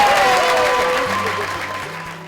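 An audience at a National Federation of the Blind seminar in Washington DC applauds to welcome a congressman, a dense burst of clapping that gradually fades over a couple of seconds with faint voices beneath.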